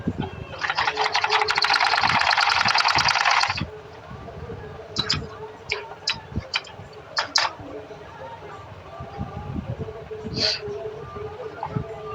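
A sewing machine stitching the pleat on a pair of trousers runs in one steady, fairly loud burst of about three seconds, then stops. Scattered light handling clicks and taps follow.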